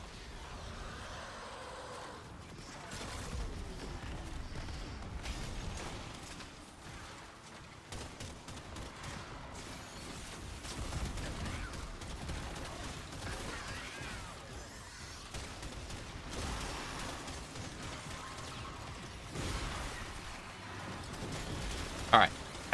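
Rapid bursts of gunfire from the sci-fi shooter game Warframe, dense and continuous at moderate loudness with a sharp burst near the end, with someone talking over the action.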